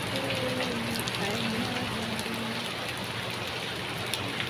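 Steady rain falling outdoors, a dense even hiss of drops with a faint low hum beneath and a brief murmur of distant voices, moderately quiet.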